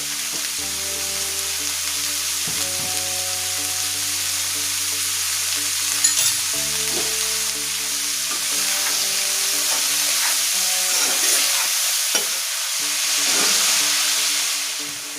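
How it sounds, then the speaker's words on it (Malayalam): Sliced onions sauté with salt in a hot pan for an egg roast, giving a steady, close sizzle with occasional stirring clinks under a faint background hum. "സവാള പെട്ടെന്ന് വഴന്ന് വരുന്നതിന് വേണ്ടിയിട്ട് നമുക്ക് അല്പം ഉപ്പ് ചേർത്ത് വഴറ്റിയെടുക്കാം."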